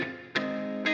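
Electric guitar through a reverb effect, sustained chords ringing with a long wash of tail, two fresh strums striking about a half second apart, moderately loud and alone.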